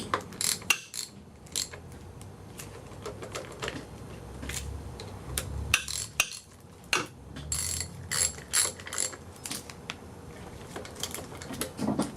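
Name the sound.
ratchet tightening bolts during timing belt change on 1.8T engine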